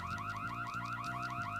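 A car alarm in the Mission: Impossible video game wails loudly and continuously, a rapid repeating warble cycling several times with no voices over it.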